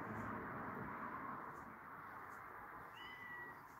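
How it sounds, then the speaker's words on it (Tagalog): A cat meows once near the end, a short thin call rising over a steady background hiss, fairly faint and alone without voices. "Akin na lang ang pusa na ito."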